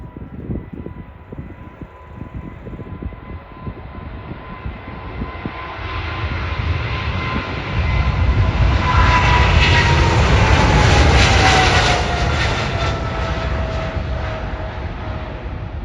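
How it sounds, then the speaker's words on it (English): KLM Boeing 777-300ER jet at Amsterdam Schiphol Airport, its engine roar building from a distant whine to a loud, broad rumble as it passes, then easing slightly, with no talk. "this 777-300ER from KLM in the orange Pride livery heading over to Montreal, Canada"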